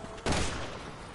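A short burst of rapid gunfire in Resident Evil 6, with a sharp loud onset that trails off into a dense rattling decay.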